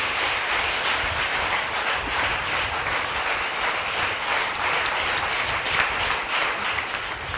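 A church congregation at an evangelical service in Côte d'Ivoire applauds and cheers, a steady, dense wash of clapping and voices that holds at an even level throughout without pause.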